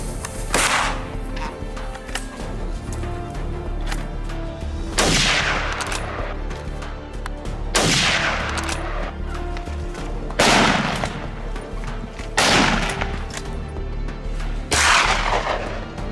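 Rifle gunfire in rural fields during a wild boar cull: about six loud, sharp shots at irregular intervals of two to three seconds, each leaving a short ringing tail over a steady outdoor background.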